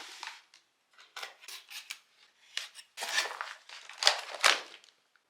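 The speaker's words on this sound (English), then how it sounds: "Lost my scissors, so I have to use my X-Acto knife." An X-Acto knife slices and scrapes through the cardboard and packing of a Nerf Elite 2.0 Tactical Pack box: a series of short, crisp cutting strokes and rustles, close and moderately loud, with brief pauses between them.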